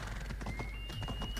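A horse in the video game Assassin's Creed Odyssey clip-clops in a quick, steady run of hoofbeats, with a whinny rising over the footfalls, all within a brief moment and with no talk.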